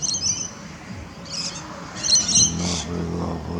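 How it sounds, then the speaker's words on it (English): Birds calling from trees at dusk, with several short high chirps in bursts over a low outdoor rumble, fairly distant and moderately loud. "some pink bits with the birds in the trees just there."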